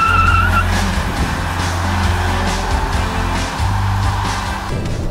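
A Škoda Octavia III 1.8 TSI spins a wheel while exiting a corner, with a loud, steady engine drone and tire scrubbing under it, plus a brief high squeal near the start.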